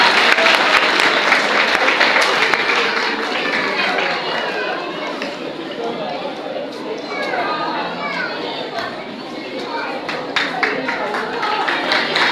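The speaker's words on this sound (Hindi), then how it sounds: "भरपूर तालियां" Sustained, loud applause from a crowd at a school annual result day for an award recipient, dense clapping mixed with children's chatter and voices throughout.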